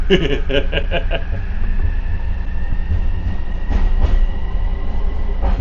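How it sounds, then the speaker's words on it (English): A Vancouver SkyTrain Millennium Line train pulls into the station with a loud, steady low rumble and rolling wheel noise, plus rhythmic rail clicks and a few clanks near the end. "There's the incoming train."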